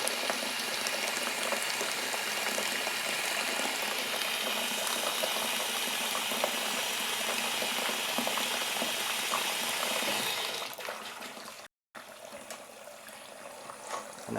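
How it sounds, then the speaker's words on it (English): A big electric kettle roars with a steady broadband boiling hiss for about ten seconds, then falls away to a softer trickle as hot water is poured out, nearby and fairly loud with no talking. "Let me give this like a bit of hot water in here."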